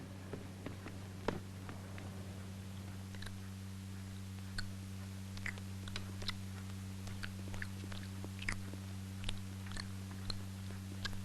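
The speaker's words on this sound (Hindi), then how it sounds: "आहिस्ता किंतु, ठीक से चबाओ।" Someone chewing food close by, with soft irregular clicks and bites spread through a low, steady background hum and no talking.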